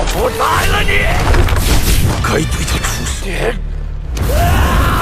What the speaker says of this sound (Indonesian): Ledakan besar pun terjadi.